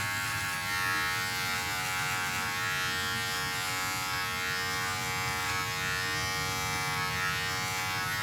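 Electric beard clipper trimming a man's beard while the mustache is left untouched, giving a steady, unbroken motor buzz close up throughout, with no talking.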